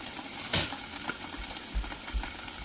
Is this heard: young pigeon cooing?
no